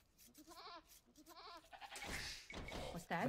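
Goats in a video game bleat twice in quick wavering calls, followed by a burst of game sound effects and an in-game voice speaking.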